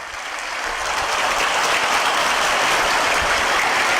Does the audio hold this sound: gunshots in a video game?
no